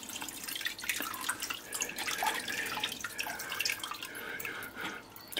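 Whey drips and trickles from cheese curds being pressed lightly by hand for a grilling cheese, making close, irregular small splashes and drips throughout.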